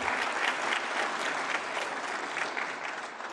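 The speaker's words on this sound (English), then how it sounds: "Please clap for them, everyone." An audience at a national science awards ceremony in a New Delhi hall gives dense, even applause, a steady wash of many hands clapping throughout with no pauses.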